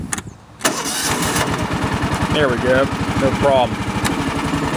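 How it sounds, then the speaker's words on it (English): A Cub Cadet Series 2000 lawn tractor engine, which had a no-start problem, cranks briefly, catches and settles into a steady, loud, close-up idle, with someone speaking over it. "let's try to fire up here."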